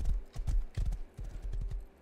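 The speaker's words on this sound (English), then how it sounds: "Got there in no time, thanks to Mr. Horse." A horse in the Rust video game gallops at speed, its hooves clip-clopping in a quick, uneven rhythm that is close and clear, briefly dropping out between bursts.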